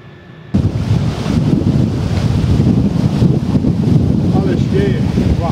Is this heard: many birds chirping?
no